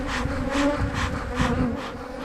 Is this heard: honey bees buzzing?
yes